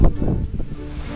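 Wind gusting against the microphone outdoors, a low rumbling buffet that rises and falls over about a second.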